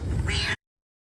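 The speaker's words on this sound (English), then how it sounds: "A cat clinging to a car in water as high as the headlights, saved by a rescuer in a boat." A cat stranded on a car in floodwater up to the headlights lets out one drawn meow that cuts off abruptly into silence.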